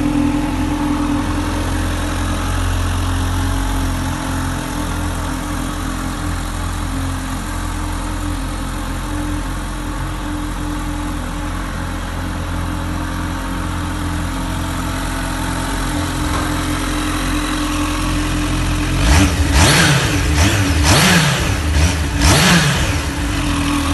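A 2020 Kawasaki Z H2 supercharged motorcycle: a steady loud idle-like drone for most of the stretch, then several sharp rising revs in quick succession near the end, close by with no talk.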